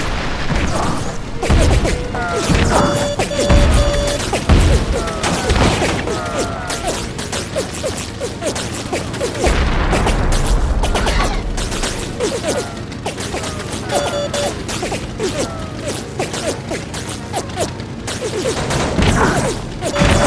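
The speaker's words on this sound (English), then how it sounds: "Torpedo dropped! That's a hit." Torpedo strike on a ship in the Heroes of the Pacific Coral Sea battle, loud booms and crashing impacts over a continuous dense roar of engines and gunfire.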